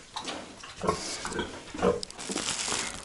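Spring piglets being fattened in a pen grunt and oink close by. Several short, rough grunts overlap irregularly over a farmyard background.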